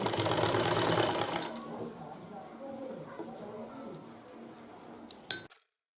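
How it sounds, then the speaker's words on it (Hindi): A simple sewing machine stitching around the edge of old cloth for a washable floor sofa, a rapid mechanical whir that runs loud at first, then quieter and steadier, ending with a few clicks before cutting off. "सिंपल सिलाई मशीन से सिलाई लगा ली"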